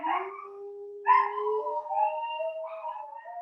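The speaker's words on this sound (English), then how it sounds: "Dogs are ready to sing." Dogs howl in a long, drawn-out chorus of several overlapping voices, rising and wavering in pitch over a few seconds, close and clear with no other sound around them.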